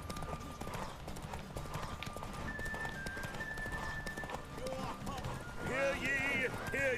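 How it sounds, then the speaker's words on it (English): A horse gallops in a derby race in The Witcher 3, its steady, rapid hoofbeats running under game music and someone talking, with a horse whinny toward the end. "His horse has to run out of stamina before Roach does, doesn't he?"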